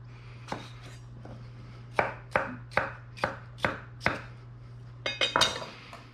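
Knife chopping seeded cucumbers into chunks on a cutting board: about a dozen crisp, close knocks in an irregular rhythm, ending in a quick cluster of cuts, with a steady low hum underneath.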